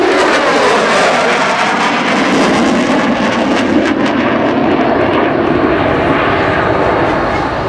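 An F/A-18 Super Hornet jet accelerating during a flyby at the Farnborough Airshow, a loud, broad roaring rush that swells and then gradually recedes.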